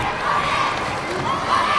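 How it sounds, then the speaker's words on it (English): Handball crowd at a European Championship qualifier between Ireland and Norway, a steady roar of shouting and cheering filling the arena, swelling slightly toward the end. "giving the crowd something more to shout about."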